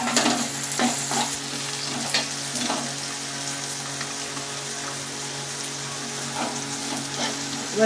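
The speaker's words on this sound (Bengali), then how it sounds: "এবার রসুনটা জাস্ট একটু গন্ধ উঠেছে, এবার আমি পেঁয়াজ দিয়ে দিলাম" Chopped onions and garlic fry in oil in a pan for egg tadka, a dense steady sizzle with occasional stirring scrapes and spoon knocks, close up and without talk.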